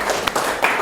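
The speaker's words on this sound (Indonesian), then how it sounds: "Tepuk tangan untuk kalian semua" Schoolchildren in a classroom give a quick round of applause, a short burst of close, uneven hand claps with a couple of sharper individual slaps.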